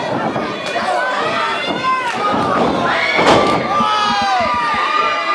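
Live wrestling crowd at a JCW Grande Bataille royal rumble event, a dense roar of cheering and shouting from a packed audience, with ring thumps and an excited commentator talking over it throughout.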